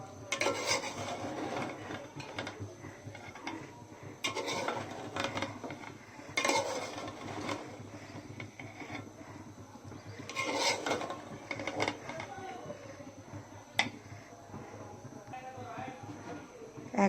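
Chicken biryani, with potatoes fried alongside the chicken and layered over pulao rice, being lightly mixed in a pot: scraping, rubbing utensil strokes in irregular bursts, fairly close, under a steady low background hum.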